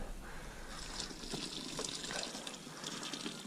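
A small pump pouring homebrew wort back over a mash-filled grain bag, a steady close splashing trickle of liquid that runs evenly throughout with no talking.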